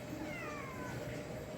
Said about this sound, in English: And of course we have an apartment cat